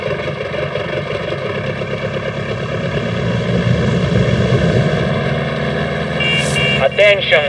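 A propeller plane in Far Cry 6 drones steadily and loudly, its engine tone rising slightly, with a brief burst of radio chatter near the end.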